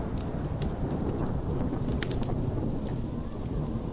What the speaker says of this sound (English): What's with all this rain and all?